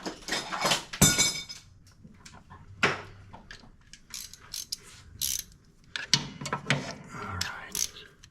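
A 5/8 socket wrench ratchets during repair work on a Toro TimeCutter mower's drive belt and bracket. Close, loud bursts of rapid ratchet clicks are broken by pauses and a few metallic clunks.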